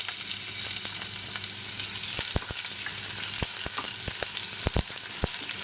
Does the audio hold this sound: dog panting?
no